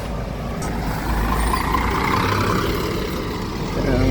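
A bus rumbles past nearby in Sydney, a steady loud engine drone with a faint hiss of air, continuous throughout with no clear talk.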